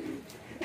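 A racing pigeon coos softly inside a loft, with a short low murmuring call that is faint and close against quiet background hiss.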